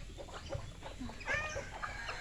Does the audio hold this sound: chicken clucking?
yes